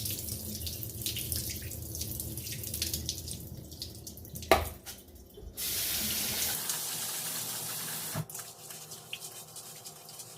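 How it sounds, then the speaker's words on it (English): Water swishes and splashes in a sink as rice is washed by hand, with scattered clatters and drips, then a brief burst of running water from a tap. "Just kind of wash it with your hands."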